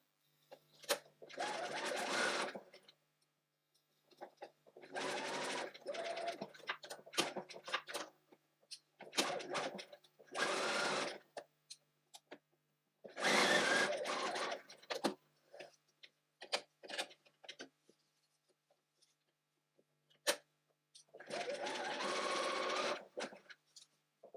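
A sewing machine stitches the side seam of a bodice toile in several separate bursts of steady whirring, each lasting a second or two, with pauses between them and brief clicks during the gaps.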